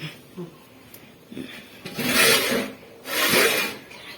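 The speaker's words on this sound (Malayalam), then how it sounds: "ഇളക്കി നോക്കാൻ പോവാ." A spoon stirs kappa (tapioca) biryani in a cooking pot, making a few close, coarse scraping strokes that rise in two longer bursts near the end.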